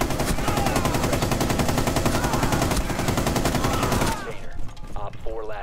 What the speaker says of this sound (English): Every single time I hear a gunshot in this game, I jump